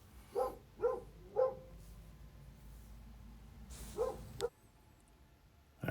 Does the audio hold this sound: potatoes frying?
no